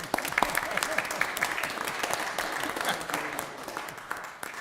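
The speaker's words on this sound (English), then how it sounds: "Let's give her a round of applause." Applause for a staff member breaks out at a town council meeting. Scattered, moderately loud clapping comes from a small room of people, with a few voices mixed in beneath it.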